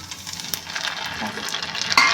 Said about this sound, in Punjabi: ਸਭ ਤੋਂ ਪਹਿਲਾਂ ਆਪਾਂ ਇਹ ਵਾਲੀ ਸਰੋਂ ਇਹ ਪਾ ਦਾਂਗੇ ਇਹਦੇ ਨਾਲ ਹੀ ਇਹ ਸਾਰੇ ਮਸਾਲੇ ਇਹਨਾਂ ਨੂੰ ਚੰਗੀ ਤਰ੍ਹਾਂ ਆਪਾਂ 2 ਮਿੰਟ ਭੁੰਨ ਲਵਾਂਗੇ